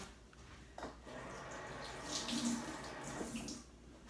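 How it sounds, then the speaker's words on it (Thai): Hands are rinsed under a running kitchen tap at a sink, giving a soft, continuous splashing flow that swells slightly in the middle, with no talking. "ล้างมือก่อน ล้างมือก่อน"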